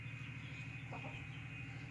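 Hens clucking on a farm, a steady low flock murmur with a brief sharper call near the middle, continuous and moderately close, with no talking.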